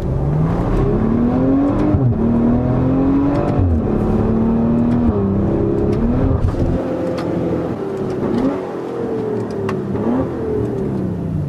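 A Maserati Levante S engine revs while driving, loud rising and falling gear pulls with a growling tone that climbs, shifts and climbs again, heard alone without talk.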